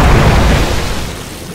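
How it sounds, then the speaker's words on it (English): A single heavy explosion as barracks are destroyed in the video game Dota 2, loud and close, its rumbling boom fading over about a second and a half. "Radiant's bottom barracks has fallen."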